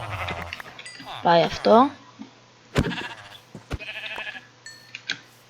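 Sheep in the video game Minecraft let out two quick bleats in close succession, set among sparse game clicks and ticks while someone speaks briefly.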